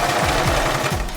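A sewing machine runs on a denim and chiffon skirt, its needle hammering in a fast, even mechanical rhythm, close and loud, with no one talking.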